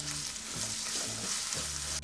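Crushed ginger and garlic sizzle in a pan for Chettinad chicken fry, a dense close hiss with low scraping strokes of a spoon stirring through it, continuous and without speech.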